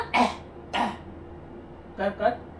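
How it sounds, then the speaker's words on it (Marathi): A girl fakes a cough as a playful act at home, giving two short breathy coughs or throat-clears near the start and two lighter ones near the end, with quiet room tone between. "मुद्दामून खोकला आलेल्याचं नाटक करते"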